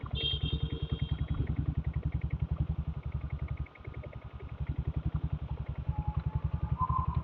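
A diesel Bullet motorcycle runs on a night ride, its single-cylinder engine thumping in a steady, evenly spaced beat. The exhaust stays loud and close, dips briefly for a moment, then resumes the same chugging pulse.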